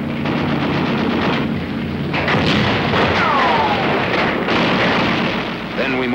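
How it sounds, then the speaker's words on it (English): Korean War combat footage carries dense, continuous small arms gunfire and rumbling battle noise, a loud sustained wall of shots and blasts, with a faint whistling tone passing through partway. "Down with small arms fire."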